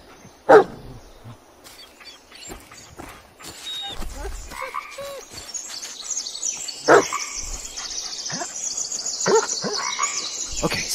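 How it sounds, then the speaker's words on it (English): A dog barks in the horror video game Blair Witch, scattered sharp barks among croaking, chirping ambience and other game effects over about eleven seconds, no voices. "Yeah, good dog."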